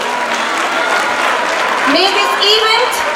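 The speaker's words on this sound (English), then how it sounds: "Let us give a well-deserved round of applause for everyone present here today." Audience applause at a college youth festival, dense clapping with crowd voices and a child's speech mixed in.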